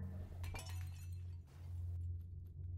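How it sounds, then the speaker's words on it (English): Glass shatters in the horror game Among the Sleep, a bright crash of breaking glass with clinking shards over a steady low drone, followed by quiet ambience. "The game forced glass to break so that she would come?"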